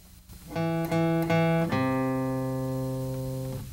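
A synthesized tone softly plays the opening motif of Beethoven's Fifth Symphony: three short repeated notes followed by a long held lower note, gentle and clean.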